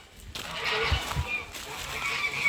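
Farm birds on a rural property cluck and chatter close by in a busy, irregular stream, mixed with rustling and footsteps outdoors.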